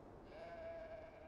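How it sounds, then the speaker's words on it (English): A single drawn-out sheep bleat from the video game Beyond: Two Souls, faint and held steady for about a second, with no talk over it. "The sheep need water."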